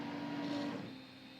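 A Geeetech i3 3D printer moves its print head upward during a filament change, giving a steady close mechanical whir with a thin stepper-motor tone, easing slightly toward the end.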